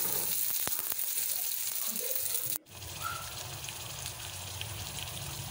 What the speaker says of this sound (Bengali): এবার কড়াইতে আমি পেঁয়াজ কুচি দিয়ে দিলাম আর পরিমাণ মতো তেল দিয়ে দিব।